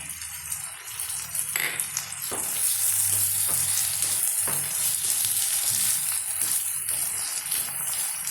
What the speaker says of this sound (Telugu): దీనిలో అల్లం వెల్లుల్లి పేస్ట్ కూడా వేస్తానండి ఇవన్నీ కలిపి వేయించుకున్నాము